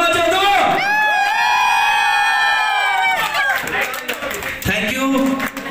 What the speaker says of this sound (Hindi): अरे थोड़ा हल्ला मचा दो।